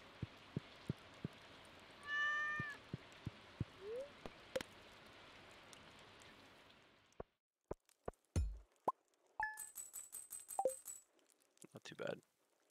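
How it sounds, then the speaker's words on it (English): A cat meows once, briefly, in the video game Stardew Valley over steady rain-like patter, with sharp plopping clicks scattered before and after. "Cat, get out of the way."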